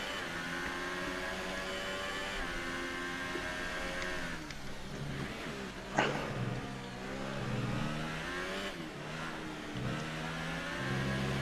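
A glitching car engine in the F1 2018 racing game, heard during an online championship race at Abu Dhabi as a steady, oddly whining tone that rises and falls continuously, with a brief sharp knock midway.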